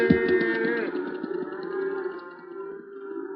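A calf moos loudly and close by in a long drawn-out call that fades, with faint background noise continuing afterward.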